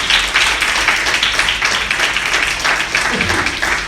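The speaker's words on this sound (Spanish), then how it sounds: "Alguien le da un aplauso a Jesús en esta noche" Church congregation applauding for Jesus during a Spanish-language sermon, a steady wash of many hands clapping at once, fairly loud and dense throughout without a break.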